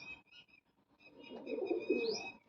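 Soft pigeon cooing, a low rolling murmur that swells in the second half, with a few faint chirps overhead; close and fairly quiet.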